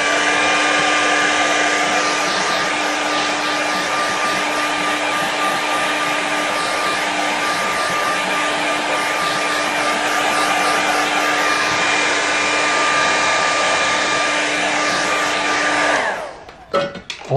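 A hair dryer blows steadily and loudly at close range over wet watercolour paint on paper, a constant roar lasting about sixteen seconds before it clicks off.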